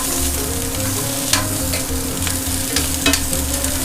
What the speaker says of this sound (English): I'll go ahead and throw in 3 cloves of minced garlic.